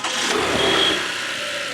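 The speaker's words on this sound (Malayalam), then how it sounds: "നമുക്ക് വണ്ടി ഒന്ന് എഞ്ചിനൊന്ന് സ്റ്റാർട്ട് ചെയ്ത് നോക്കാം" A 2013 Toyota Camry non-hybrid petrol engine starting, a short crank followed by a quiet, smooth idle that settles to a steady low hum, close by with no talking.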